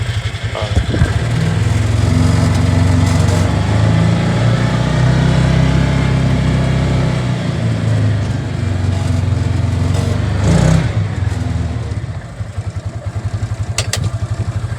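A Hisun UTV engine putters loudly and steadily as the vehicle is driven, with clattering, lawn-mower-like mechanical noise that swells briefly near the end and then drops to a rhythmic idle chug.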